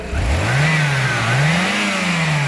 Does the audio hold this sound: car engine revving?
yes